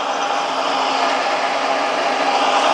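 A Granite 3-in-1 combo lathe runs with its carriage traversing the workpiece under half-nut engagement for thread cutting, giving a steady, close, continuous mechanical whir and grinding hum with no talking.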